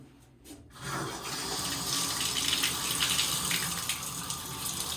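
A Nebia by Moen shower head is turned on and sprays water, a brief click followed by a steady, hissing rush of spray that fills the room and holds constant.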